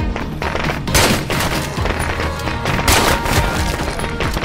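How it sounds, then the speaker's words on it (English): Fireworks going off in the State of Decay 2 video game, a rapid volley of loud cracks and booms in clustered bursts, dense and close, with heavier blasts near the start and middle. "While they distract with the fireworks"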